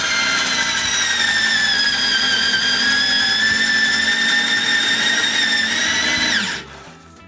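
A power tool cutting mortises for a sawhorse brace gives a loud, steady whine for about six seconds, then winds down and stops.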